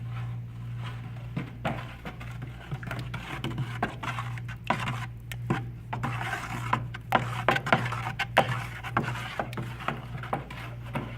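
Aluminium oxide grit is stirred into a coating product, with soft scraping, rubbing and light knocking strokes repeating irregularly over a steady low hum, fairly quiet and without talk.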